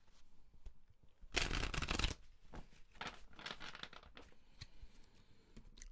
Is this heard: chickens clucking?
no